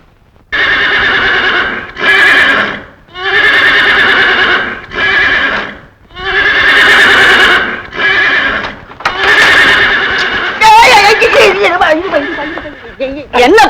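A horse neighs and whinnies in several long, loud, close calls separated by short pauses, with hooves clip-clopping underneath and a voice speaking toward the end.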